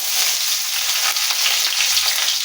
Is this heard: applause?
no